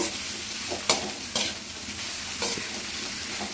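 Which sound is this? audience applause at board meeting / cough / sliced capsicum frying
sliced capsicum frying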